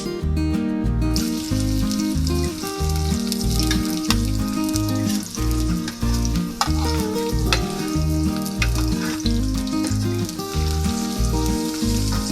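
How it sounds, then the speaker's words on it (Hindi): Two onions browning in half a cup of oil for chicken haleem give a loud, steady sizzle that runs the whole time beneath prominent rhythmic music. "इनके लिए प्याज ब्राउन करनी है। आधी प्याली डालेंगे ऑयल और 2 अदद प्याज।"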